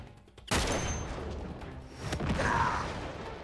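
An enemy fires a gun in the video game Uncharted 3, with a sharp burst of shots followed by more rapid gunfire a moment later, loud and close.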